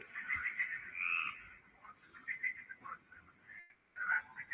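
A chorus of frogs croaks continuously, dense and steady, with brighter trilling calls rising above the throbbing background for several seconds.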